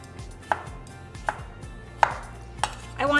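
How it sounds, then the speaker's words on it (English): Knife chopping a cucumber into quarters on a board: four crisp, separate strikes about half a second to a second apart, close and clear over a low steady background hum. "This is pretty big, so I'm gonna chop it into quarters"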